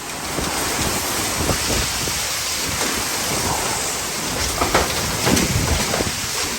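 Strong wind and heavy rain roar steadily past a screened enclosure near a pool, producing a dense, constant wash of noise with gusty surges and no voices.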